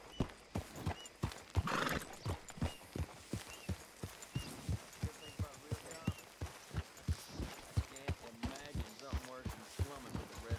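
Horse in Red Dead Redemption 2 walking with steady clip-clop hoofbeats and a loud whinny near the start, with a voice talking over the game sounds.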